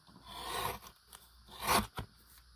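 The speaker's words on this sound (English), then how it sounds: "I'm going to cut a little bit from the bottom" Scissors snip a small piece off the bottom of a craft item in a few close, crisp cuts with short crunchy closes and pauses between them.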